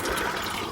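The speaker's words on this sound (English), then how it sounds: "I'm just filling up my water back to" Water running into a container in a garden, a brief steady splashing rush, faint and without speech.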